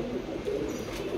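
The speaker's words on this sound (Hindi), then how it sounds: "कबूतर बधिया फड़े" Low, rolling coos from a caught pigeon held close, a continuous throaty burble that swells and repeats over a quiet background.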